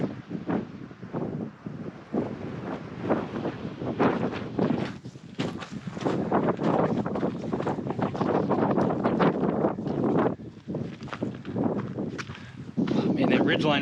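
Cold wind gusting across a mountain ridgeline at Signal Peak, a steady rough buffeting roar against the microphone throughout, with a person talking underneath.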